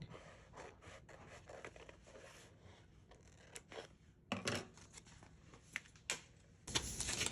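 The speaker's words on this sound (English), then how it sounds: "Get a scissors. I forgot to add scissors to the list. And just trim off the piece you need." Quiet, close snipping and rustling of scissors cutting material, a few sharper cuts and paper handling in irregular bursts.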